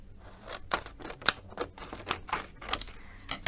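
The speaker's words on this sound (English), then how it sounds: "then we'll just cut down this cardstock to go through our machine. So we can trim that down" A paper trimmer slices down cardstock for a crafting card project, giving a series of short, crisp cutting strokes and clicks in an irregular rhythm, close and moderately loud, with no talking.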